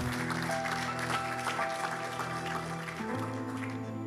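A church congregation applauding and cheering, a steady wash of clapping under sustained keyboard chords, moderately distant and even throughout.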